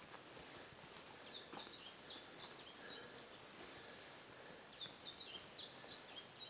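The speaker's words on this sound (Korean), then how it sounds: "아, 이 새소리 들어봐." Small birds chirp and tweet at a rainy campsite during a downpour, scattered high calls repeating over steady rain hiss, with no talking.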